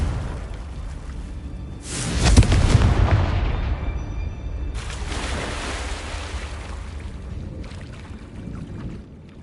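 A Confringo fire spell blast in Hogwarts Legacy erupts as a loud booming explosion that rumbles and fades, followed by a second, lighter whooshing burst and a faint later tail.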